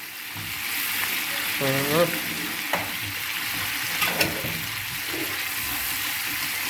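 Steady sizzle of frying in butter in a pan while preparing haliska, an old Turkish village dish, with occasional stirring scrapes and a voice speaking briefly over the cooking.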